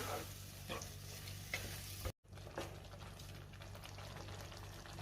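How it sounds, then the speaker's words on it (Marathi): Chana masala is stirred in a hot pan, a continuous sizzle with scraping spoon strokes, briefly cut off mid-way, then carrying on steadily. "सगळं व्यवस्थित मिक्स करून घेते।"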